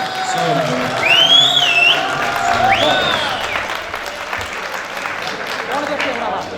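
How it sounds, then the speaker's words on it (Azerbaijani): Wedding guests applaud poets in a banquet hall, steady clapping running under a voice on a microphone, with warbling tones in the room behind. "Alqışlayaq şairlərimizin hər birini ürəkdən zəhmət olmasa"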